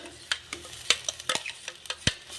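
A ground paste of tomato, coconut and roasted gram goes into a hot pan for tomato sambar, bringing a light sizzle under repeated scraping and stirring clatter from a spoon, close and busy, with no talking.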